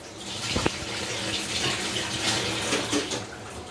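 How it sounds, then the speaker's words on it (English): Water pours into a hand grinder in a home kitchen while a Bombay duck karvil dish is prepared, giving a steady splashing rush across the whole stretch with a brief sharper splash near the start. "It is the hand grinder I have used, and poured the water into it"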